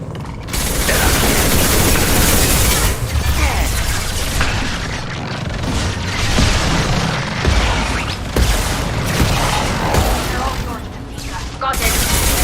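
Defensive turret gunfire in the video game Mass Effect 2, a loud, sustained fusillade of rapid shots and booms under game voices that continues steadily across the whole stretch.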